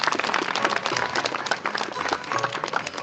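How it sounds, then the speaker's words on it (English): A graduation day audience claps for a merit award: a dense, continuous round of applause from many hands, even in level throughout, with no clear speech. "The clapping should continue."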